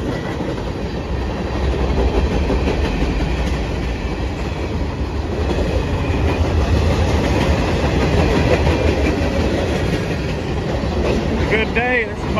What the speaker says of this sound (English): This is my second train today.